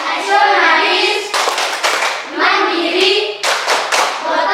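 A classroom group claps the rhythmic Tepuk PPK chant, bursts of sharp hand claps in patterned rhythm alternating with young voices chanting, loud and close.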